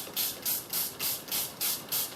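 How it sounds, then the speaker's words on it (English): Old spray bottle misting water onto paper for dyeing with water-reactive inks, seven quick hissing spritzes in a steady rhythm, close and fairly loud, with no talking. "I just use an old spray and white bottle, and I just lay a bit of water onto that"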